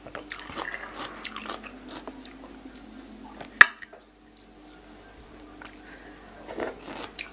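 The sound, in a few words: eating pounded pickled vegetable salad with cucumber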